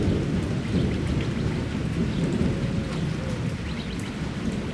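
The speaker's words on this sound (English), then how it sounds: "there's some nice rolling thunder there" Rolling thunder rumbles low and continuously through a heavy rainstorm, with steady rain hissing over everything and no voices.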